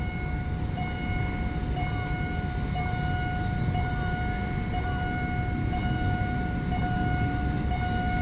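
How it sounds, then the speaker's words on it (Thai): A train rumbles steadily nearby as it approaches the Yommarat level crossing in Thailand in the early morning, while a crossing bell rings in a continuous, even pattern over the noise. "รถไฟกำลังจะมา น่าจะเป็นขบวน 384 นะครับ"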